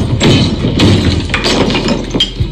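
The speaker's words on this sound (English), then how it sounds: "proceeds to smash it with his head 3 times, shattering it and cutting his forehead" A mirror is smashed with a head in a movie scene, giving several heavy thuds followed by bursts of shattering, tinkling glass, loud and close over about two seconds.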